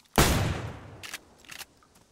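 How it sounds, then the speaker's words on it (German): A gunshot in the zombie survival video game DayZ cracks loudly and close, then decays into a long echoing tail, followed by two fainter distant shots. "die Schüsse laut"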